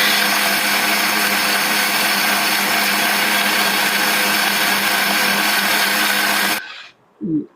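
A kitchen mixer grinder runs loud and continuous, grinding chilli chutney, then stops abruptly, leaving a short thud and rattle near the end.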